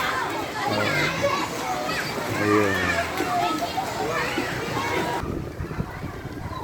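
Children play and shout in a swimming pool at a river eco park, lively kid voices and splashing filling the scene, with someone talking over them close by.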